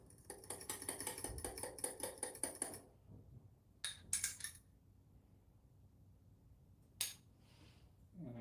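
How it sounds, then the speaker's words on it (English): An egg whisked quickly in a bowl for tuna fish cakes: a dense run of rapid metallic clinks for about three seconds, then a few short scattered taps and clinks in a quiet room. "Quick little whisk."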